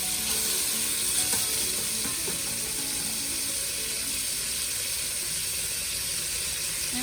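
Chicken gizzards fry in a pan on a stove set to high, giving a loud, constant close sizzle with faint scraping clicks from stirring.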